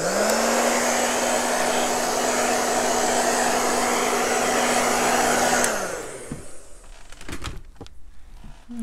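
A hair dryer blows steadily on an air dry clay vase for about six seconds, a loud close whine that then switches off and winds down, followed by faint handling knocks.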